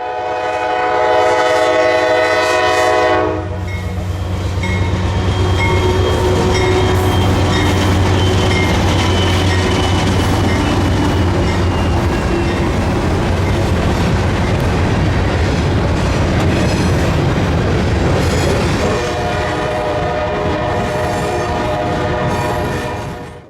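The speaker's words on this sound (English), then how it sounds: "Train M267 is continuing its journey to Shreveport from Artesia, Mississippi." A Kansas City Southern freight train, M267, roars past close by, its horn sounding in long blasts at the start and again near the end, with heavy rail rumble and clatter filling the middle.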